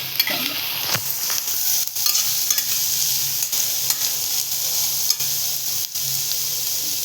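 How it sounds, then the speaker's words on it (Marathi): Onion sautéing in a pan while being stirred, a steady soft sizzle with scraping spoon strokes at irregular intervals, close and alone. "कांदा आपल्याला परतवायचा आहे"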